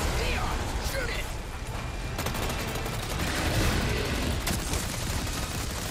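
Gunfire rings out in the Resident Evil 4 Remake as Leon shoots, with a rapid run of sharp cracks and mechanical clatter over a dense game soundscape, while a voice talks over it.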